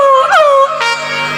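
A performer in a Chhattisgarhi nacha folk theatre show vocally imitates a pet dog, a loud wavering howl sliding into whimpering yips, close and clear with no other voices.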